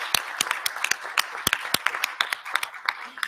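A conference audience claps in scattered, uneven bursts, with distinct sharp claps rather than a dense roar, a small gathering applauding at moderate level.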